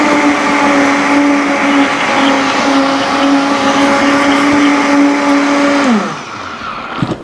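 A high-powered blender whirs steadily as it blends a faux cheese sauce, a loud continuous motor whine that holds pitch for about six seconds before winding down and stopping, with a small clatter at the end.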